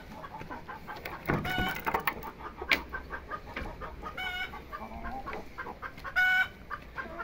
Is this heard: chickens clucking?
yes